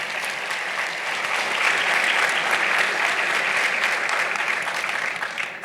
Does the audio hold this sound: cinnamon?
no